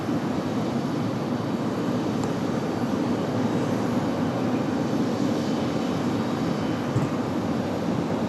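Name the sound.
Envoy plane taking off from runway 23 right, RDU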